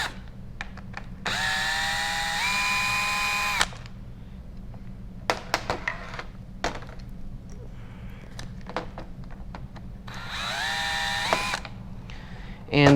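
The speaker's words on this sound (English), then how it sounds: "get your T25 torque bit on the drill or screwdriver and loosen the old handle off" A power drill with a T25 Torx bit whirs in several bursts loosening trimmer handle screws, with clicks and tool handling noises in between.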